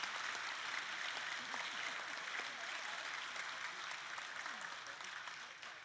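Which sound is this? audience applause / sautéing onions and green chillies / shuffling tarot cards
audience applause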